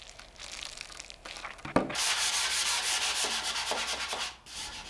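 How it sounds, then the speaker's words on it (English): Steady abrasive rasping of a rigid-and-soft-sided hand sanding block rubbed back and forth over a vintage wooden dresser, close and continuous after a soft start, with a brief knock midway. "I'll mostly use this hand sanding block that has a rigid side and a soft side."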